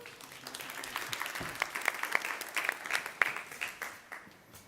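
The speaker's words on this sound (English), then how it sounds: "come on, a round of applause" An audience at the Energy Tech Summit 2024 main stage applauds, a dense, steady wash of many hands clapping that builds in the middle and tapers off toward the end.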